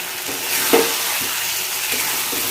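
A paste of ground poppy seeds and cashews is stirred in a hot pan of cooked-down spices, giving a continuous frying hiss broken by a few soft scrapes of the spoon.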